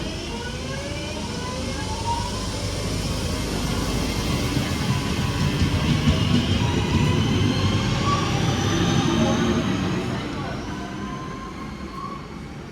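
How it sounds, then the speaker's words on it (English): A Northern class 323 electric train pulls out of Poynton station toward Stoke-on-Trent, its traction motors whining as they rise in pitch over a loud rumble of wheels that builds and then fades as it draws away. "Then 323209 railing off to Stoke-on-Trent."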